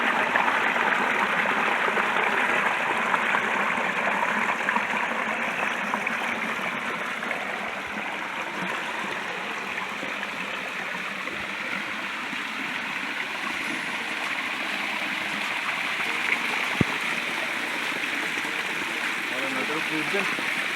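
Flowing water at Khoyachora waterfall, a steady loud rushing roar of cascading water across several rock steps, continuous and close throughout.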